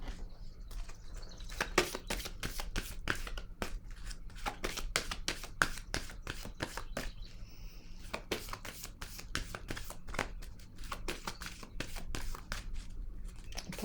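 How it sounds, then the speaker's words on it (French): Tarot cards being handled and laid down on a surface, a quiet, steady series of soft flicks, slides and taps, close by and continuing throughout without talk. "je vais déposer une autre carte ici."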